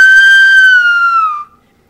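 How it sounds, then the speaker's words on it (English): A person whistles one clear, steady note that glides slightly downward and then stops, leaving silence afterward. "If I was just to whistle very quickly to demonstrate this,"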